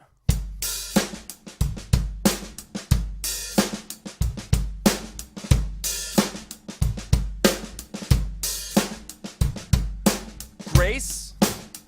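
Drum groove on a kit played with soft ghost notes and grace-note flams at the end of the bar, steady repeating kick and snare pattern with quieter strokes in between, close and loud, no talking.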